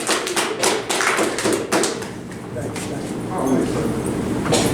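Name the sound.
audience applause at a poetry slam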